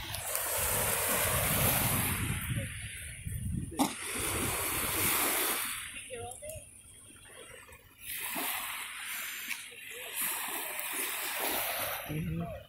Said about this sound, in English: You see those little waves? That's by us. Little teeny tiny tsunami waves.